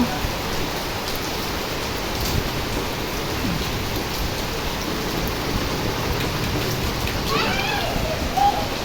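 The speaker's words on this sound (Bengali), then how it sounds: "বৃষ্টি নামছে ঝিরি ঝিরি বৃষ্টি কত সুন্দর মাসাল্লাহ ঢাকা শহর ঠান্ডা হয়ে গেল" Light drizzling rain falls over the city of Dhaka, a soft, even hiss of fine drops that continues without pause, with no clear voices over it.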